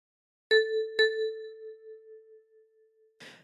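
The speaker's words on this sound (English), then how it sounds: "With your left thumb, pluck 6 twice." Two quick plucks of the same kalimba key, made with the left thumb on a 10-key instrument, give a pair of ringing metallic tones about half a second apart that fade slowly, ending with a short rustle.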